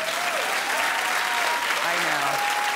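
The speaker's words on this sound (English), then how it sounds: "Clap if you will." A television talk show studio audience claps in a sustained, dense burst of applause, with cheering voices rising over the clapping.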